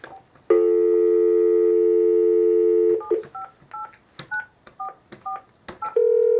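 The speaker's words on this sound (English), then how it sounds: "Yes, I dial my number," A telephone plays a steady dial tone, then a quick run of short beeping keypad tones as a number is punched in to retrieve voicemail messages, then another steady tone.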